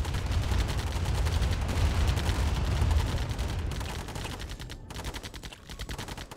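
Light tanks opening fire on infantry in a real-time strategy game, rapid bursts of gunfire rattling nonstop, dense and loud at first, then thinning into choppier volleys with brief gaps.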